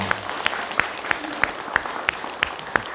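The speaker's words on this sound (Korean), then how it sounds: "우리 가족에게 큰 응원의 박수 한번." An audience at a Buddhist meditation service claps in a slow, even rhythm, with about nine distinct, fairly faint claps spaced roughly a third of a second apart over a quiet room hum.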